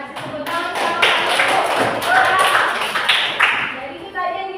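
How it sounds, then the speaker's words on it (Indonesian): Children in an elementary classroom clap together in a short, ragged burst, with taps and thumps among the claps and young voices chattering alongside, close by and fairly loud. "Nah, yang kasih tepuk tangan."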